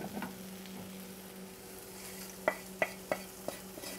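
Spices go into a frying Pakistani curry base with tomatoes, giving a soft continuous sizzle under a low hum, with a few sharp utensil clicks and scrapes against the pan toward the end.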